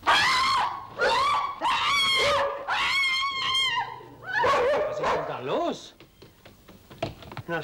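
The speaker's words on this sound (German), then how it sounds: "Was ist das für ein Hund?" A dog barks, yelps and whimpers in a run of loud, howling cries in a classic German film scene, the calls fading into softer whines and scattered sounds near the end.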